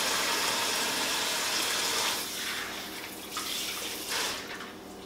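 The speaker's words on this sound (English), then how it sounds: "I'm gonna rinse my hands off." Kitchen tap running while hands are rinsed, a steady loud rush of water that drops and shifts as hands move through the stream, then tapers lower.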